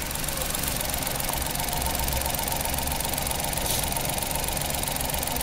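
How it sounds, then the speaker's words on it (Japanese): The engine of a 2009 Suzuki Every van idles with the engine bay open, a constant close mechanical hum with a fine rapid ticking texture that runs unbroken and even from start to finish, with no talk. "エンジン音です。"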